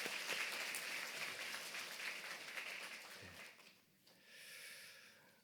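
A church congregation at a Sunday service claps together in a steady, moderately faint round of applause that fades out, followed by a brief quieter stretch of room noise.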